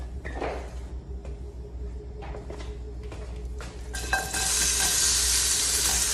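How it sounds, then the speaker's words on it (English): Onions frying in a couple of tablespoons of oil in a pot: quiet clatter at first, then a loud, steady sizzle sets in and holds to the end. "I've added 2 tablespoons of oil to my pot. I'm gonna add the onions in."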